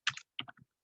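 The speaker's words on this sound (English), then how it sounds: "you'd think after all this time I'd be able to type network without looking down at the keyboard" Keys on a computer keyboard are tapped in a quick run of about six close, crisp clicks grouped in two short bursts, with no voices.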